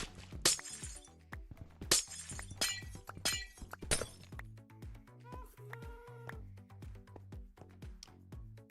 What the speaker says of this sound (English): Broken glass. What a great sound.